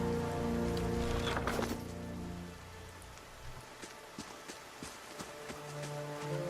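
Rain falls in the fantasy role-playing game Pillars of Eternity, a soft continuous patter. A sustained musical drone sounds over it at first and then fades, leaving the rain alone with light scattered ticks.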